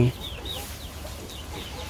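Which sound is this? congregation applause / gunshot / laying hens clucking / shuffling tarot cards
laying hens clucking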